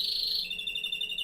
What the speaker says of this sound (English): These are canaries. They're the ones making that noise.